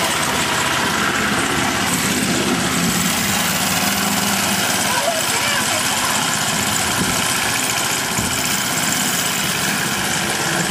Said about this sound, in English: Mom's trying to mow her fucking yard.